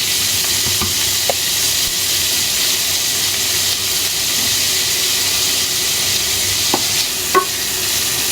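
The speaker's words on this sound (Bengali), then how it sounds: "পেঁয়াজ আর মরিচ তেলের ভিতরে ঢেলে দিলাম।" Chopped onion and chili fry in hot oil with a continuous, close, fairly loud sizzle, broken by a few faint utensil clicks.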